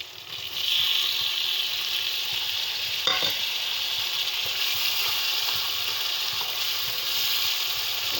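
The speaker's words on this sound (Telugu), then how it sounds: "ఇది బాగా వేగనిద్దాం ఇందులోకి టమాటా వేసుకుంటున్నాను" Tomatoes fry in a pan for a fish curry, giving a loud steady sizzle close at hand with a brief stirring scrape partway through.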